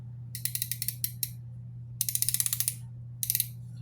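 Clicking from a new bicycle hub's ratcheting freewheel, heard close up in three bursts of rapid, evenly spaced ticks with short pauses between them, over a steady low hum.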